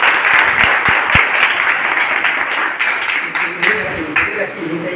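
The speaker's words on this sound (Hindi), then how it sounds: "ठीक है सर, एक बार इनके लिए ताली बनता है।" Audience at an RCM business meeting breaking into a sustained round of applause, dense clapping close and loud throughout, with a voice speaking over it.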